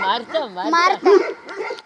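Two dogs at a home kennel yip, whimper and give short barks in close, excited bursts, with people talking alongside.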